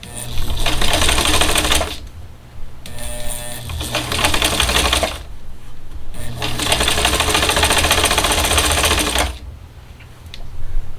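A sewing machine stitches a fall bowl filler in three loud, close bursts of rapid needle chatter, with brief pauses between for stopping and pivoting, and no talk.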